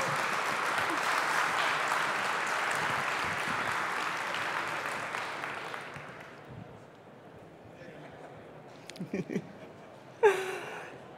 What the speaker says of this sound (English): the person who you're going to give a genuine round of applause to as she makes her way onto the stage